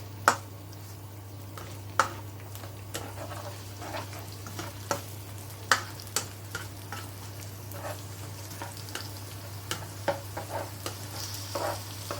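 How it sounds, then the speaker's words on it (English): Onion frying in a little oil in a pan and being stirred: a steady low sizzle with repeated sharp scraping clicks of the spoon against the pan at an irregular rhythm, close and moderately loud, no talking. "Add the onion and stir for 2 minutes."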